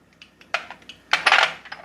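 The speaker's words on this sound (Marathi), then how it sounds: "तेल गरम झालंय, मी त्यामध्ये मोहरी घालते." Mustard seeds dropped into about two spoonfuls of hot oil in a kadhai (wok): a scatter of sharp, bright clicks and crackles, sparse at first and then a denser cluster, close by with no talk.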